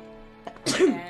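A single close sneeze bursts out sharply after a brief quiet moment, with a voiced tail at the end, and a word spoken just before it.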